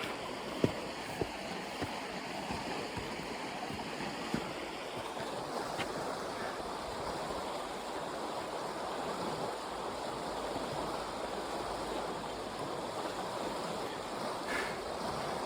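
Moving water sloshing and washing steadily on a walk along St. Cuthbert's Way, a continuous broadband wash with a few faint knocks early on and no voices.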